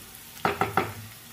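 Garlic roasting in a pan for a Karnataka rice dish, with three quick stirring bursts of sizzle and scrape close by, then a low steady background.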